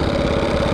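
A DuroMax 208cc small engine fitted to a Bonanza minibike runs steadily at a low, even drone, close and continuous with no talk over it.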